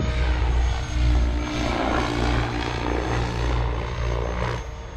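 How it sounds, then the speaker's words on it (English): Continuous whirring drone of a small RC helicopter's rotors and motor in flight, steady and fairly loud, with slight swells in pitch and volume and no talking. "this is a fantastic flying helicopter"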